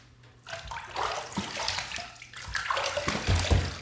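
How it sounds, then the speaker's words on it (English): Water splashes and runs as a man wets his face at a sink before building shaving lather, a close, steady wash of splashing and trickling with brief louder bursts. "right now, I'm going to wet the face, and that way we can start building this lather"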